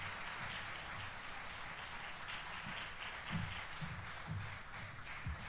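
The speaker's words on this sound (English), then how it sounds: "A warm, big round of applause for His Excellency" A summit audience at the Africa Forward Summit applauds after President Emmanuel Macron's speech, a steady wash of distant clapping with a few louder, closer claps standing out, and no talking.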